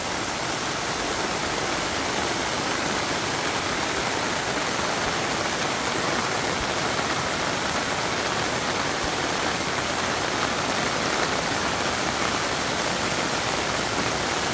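A constant wash of heavy rainfall over a farm vegetable garden, thick and even hiss with no pauses, close and loud throughout.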